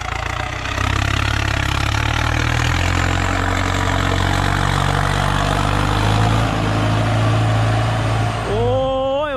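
A Ford 6640 tractor fitted with a Holset HX40 turbo runs with a loud, steady low diesel rumble and idle drone throughout, then a rising whistle-like tone appears near the end.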